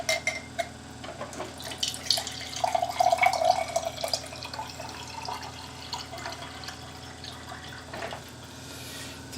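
Water trickles and splashes from the tap of a premium chill water cooler into a cup, a close burst of pouring in the middle fading to quieter dripping and background hum.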